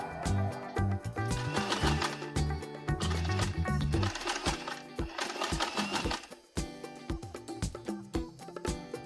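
A sewing machine stitches fabric for a knotted turban headband, whirring in rapid rhythmic runs with short stops and restarts, close and steady, with no one speaking.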